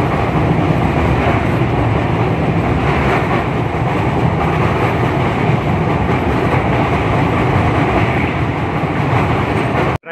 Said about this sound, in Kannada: ಜರ್ನಿ ಮಾಡ್ತಾ ಇರೋದು ಟ್ರೈನಲ್ಲಿ.